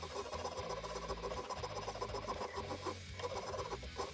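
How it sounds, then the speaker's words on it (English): A half round rasp and file shape the bolster area of a wooden cleaver-shaped serving board, a steady close scraping rasp in repeated back-and-forth strokes with no talking. "I also use the half round rasp and file to blend the bolster area."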